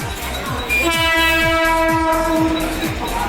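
A train horn blares loud and sustained as the train rolls into Asangaon station, with rhythmic clacking of wheels over rail joints underneath.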